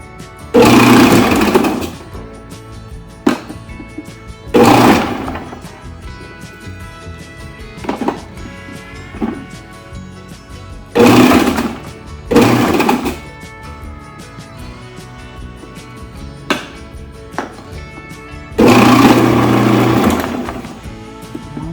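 A Robot Coupe R2 dicer motor running while dicing celery, several loud whirring bursts of a few seconds each separated by quieter clatter and handling noises.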